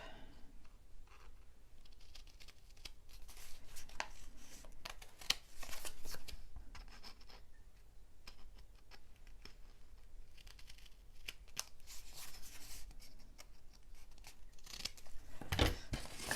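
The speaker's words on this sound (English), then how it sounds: "I'm going to turn it over to trim the corners" Scissors trim the corners of a paper pocket for an autumn mini album, with quiet snips and paper rustles scattered over several seconds and a few sharper clicks near the end.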